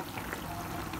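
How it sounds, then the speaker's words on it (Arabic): Dense, loud sizzling as white beans drop into a hot fried base in a pan, a continuous close crackle and hiss throughout, no voices. "والحين هنزل بالفاصوليا دي عليها"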